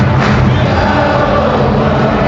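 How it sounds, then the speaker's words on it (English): Away football fans at a Premier League match between Crystal Palace and Newcastle United make a loud, dense crowd noise from the stands, a continuous wash of applause and voices with no clear individual claps. "there is some applause from the away fans"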